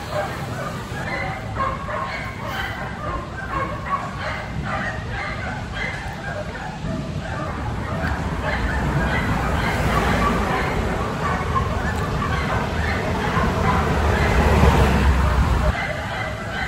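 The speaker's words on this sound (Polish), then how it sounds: "Mam nadzieję, że wszyscy to przeżyją, tą szczekaninę." Dogs bark repeatedly in a busy chorus of yips and bow-wows along a rainy roadside walk between Chesterfield and Derby, with traffic rumbling and someone speaking over the barking.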